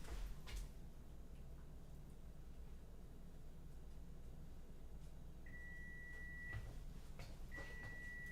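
A countdown timer on a car magazine photo shoot gives two thin, steady electronic beeps late on, each held for about a second, over a low constant background rumble.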